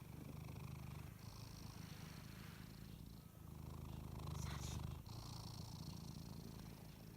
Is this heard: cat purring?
yes